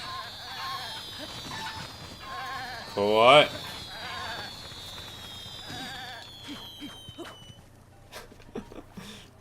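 A goat bleats in a video game: a loud, quavering cry rises briefly in the middle over a soft musical background with occasional faint tones, while a person speaks briefly.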